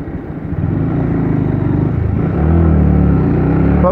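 A Honda MSX 125 motorcycle rides through town, its small engine droning loud and steady up close, then pulling harder as the rider accelerates and the pitch climbs.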